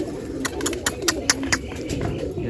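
A pigeon being flown from a rooftop: a quick series of soft, rhythmic flaps or flutters, about a dozen in a row, fairly close over faint background hum.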